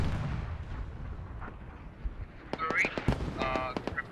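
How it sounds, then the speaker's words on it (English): Mortar rounds pounding prone infantry in the Squad video game, heard as a run of sharp, fairly close impacts and cracks from about the midpoint on, with heavier low rumble beforehand and scattered battle noise throughout. "Look at the mortars just chewing through all the lane prone infantry"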